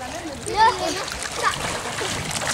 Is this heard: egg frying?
no